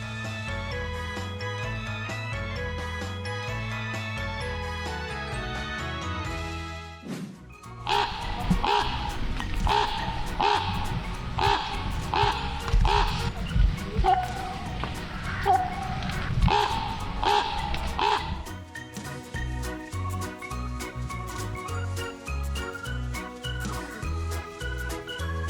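Several crows caw in repeated harsh bursts through the middle stretch, set between passages of steady background music.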